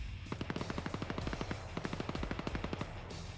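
Rapid machine gun bursts from a multiplayer shooter match, sharp repeated shots in two long strings with a brief pause between, loud and close with no talk over them.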